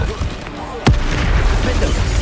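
A single sharp spell blast from Bombarda in Hogwarts Legacy bursts mid-fight, a sudden loud boom that leaves a dense, sustained roar of combat noise behind it. A voice calls out over the game sound.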